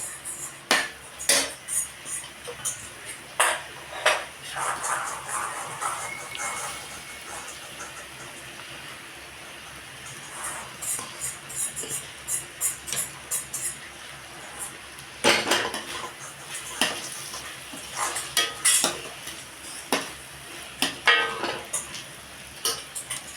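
Cooked rice stirred into spinach rice in a pan, with fresh coriander just added; a metal spoon scrapes and clatters against the pan in irregular bursts of clinks and scrapes, close and moderately loud, with no talking.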